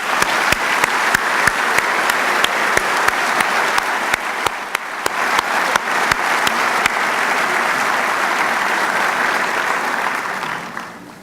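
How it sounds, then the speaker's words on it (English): Audience at a 2012 University of Utah School of Medicine commencement ceremony claps steadily and loudly, a sustained wash of applause with sharp individual claps standing out, fading away near the end. "Let's give them a round of applause."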